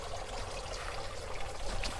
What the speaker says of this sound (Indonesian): ini di sini teman-teman bisa lihat air mengalir melalui sedotan ya, pipet-pipet minuman ini ke bawah.